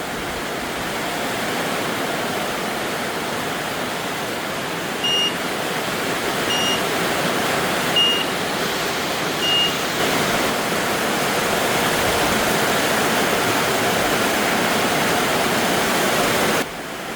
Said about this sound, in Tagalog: Oh, ayan na rin, malakas na ulan.